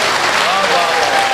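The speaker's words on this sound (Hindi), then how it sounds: "तालियां बजा दीजिए" An audience at an international Urdu poetry mushaira in Muscat, Oman applauds in a dense, steady wash of clapping, with a voice speaking over it throughout.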